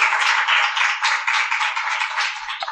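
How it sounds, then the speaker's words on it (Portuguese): An audience claps for a volunteer after a chest compression demonstration, a short burst of steady, even applause lasting a few seconds with no talking. "uma salva de palmas aqui para o Daniel"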